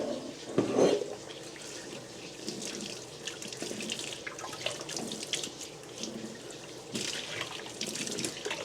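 Water runs steadily from a tap in an apartment after service was restored, a continuous close splashing hiss with a brief louder gush near the start and no talking.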